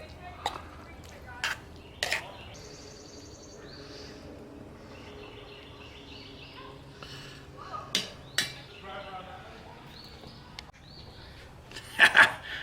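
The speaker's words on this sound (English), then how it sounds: "So I think we should plate it up" Knorr chicken and rice served from a camp pot outdoors, with several sharp spoon-on-metal clinks and scrapes spread out over quiet background, birds chirping faintly and people talking.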